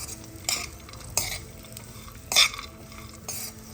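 Makhana (fox nuts) frying in a pan while being stirred, with dry scraping and rattling strokes at irregular intervals over a low, steady sizzle, close and fairly loud.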